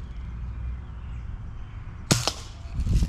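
A BB gun fires at targets outdoors in Tennessee: two sharp, quick snaps close together, then another crack a moment later, over faint background ambience.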